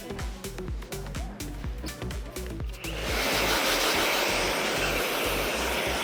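A hair dryer blows hair dry during a keratin treatment at a salon, starting after a few seconds of rhythmic handling noises and then roaring steadily and loudly up close.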